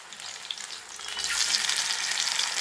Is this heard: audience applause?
no